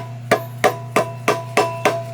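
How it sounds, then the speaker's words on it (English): Hammer tapping dowels on a 1955 Oldsmobile 324 Rocket engine during a build: six evenly spaced sharp metallic taps, close and clear over a steady low hum. "I need something to tap. Just tap this thing over there."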